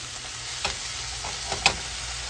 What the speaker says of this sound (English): All you got to do is add everything else. You're going to start with your beans